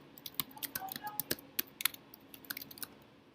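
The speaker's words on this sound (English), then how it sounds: "Just type that in." Scattered, quiet key clicks from typing on a computer keyboard, irregular taps spread across a few seconds with no talk.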